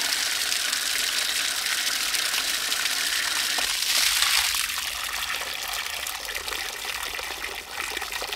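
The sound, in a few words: water siphoning out of a ram pump delivery pipe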